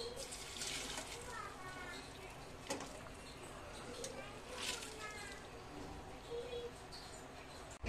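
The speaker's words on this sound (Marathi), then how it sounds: "उकळवून घेतलेले नूडल्स आपल्याला गाळून घ्यायचे आहेत" Boiled noodles drained through a strainer in a home kitchen, water splashing and trickling steadily with a few sharper clinks and bursts, close and moderately loud.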